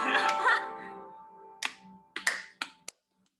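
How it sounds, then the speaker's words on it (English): Children clap their hands for a goodbye song, giving four sharp, separate claps spaced unevenly after a short stretch of voice. "let's stand up and start clapping our hands for our goodbye song"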